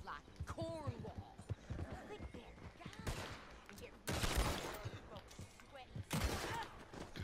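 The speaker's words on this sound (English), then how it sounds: "Just shot his hat off." Gunshots in the Western video game Bounty Legends ring out as loud broadband cracks, with two big bursts standing out among horse hooves and game voices talking.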